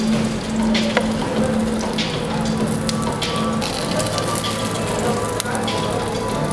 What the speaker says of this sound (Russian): И также погружаем на разогретую сковородку. Уже с маслом. И слегка прогреваем с двух сторон.